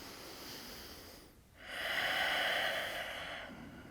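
Slow breathing during a yoga neck and shoulder stretch: a soft airy exhale, a short pause, then a longer, fuller breath heard close up with no talking.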